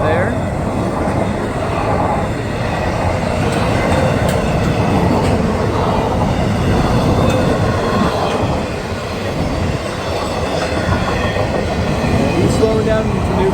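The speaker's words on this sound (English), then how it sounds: "Man, this is a long train." A long CSX intermodal freight train carrying stacked containers rumbles past nearby in the rain, with a steady, loud roll of wheels and cars lasting the whole stretch and faint wheel squeal mixed in.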